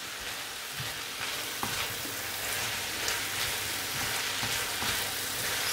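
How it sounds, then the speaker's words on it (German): Pointed cabbage and minced meat filling fry in a pan under a dense, steady, rain-like sizzle, with occasional faint scrapes from stirring. "Immer umrühren, bitte nicht vergessen."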